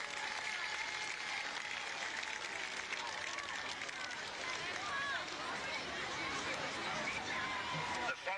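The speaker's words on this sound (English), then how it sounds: "can we have a big round of applause for those two, please?" An outdoor crowd at the 1987 World Championships results in Derby applauds the competitors, a steady wash of distant clapping mixed with crowd chatter and murmuring voices.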